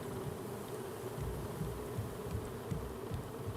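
Bees buzzing in the video game Raft, a steady low hum of many insects that continues unbroken.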